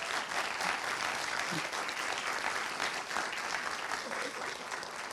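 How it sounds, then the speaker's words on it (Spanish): Audience applause at a journalism conference keynote, a dense, steady clapping from a large crowd that holds evenly loud for the whole stretch with no pauses. "Un aplauso."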